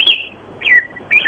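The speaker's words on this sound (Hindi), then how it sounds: "पीछे चिड़िया बोल रही है आपकी" A small bird chirps in the background of a phone call, giving three sharp, high, falling tweets spaced about half a second apart, loud and close, with no voices over them.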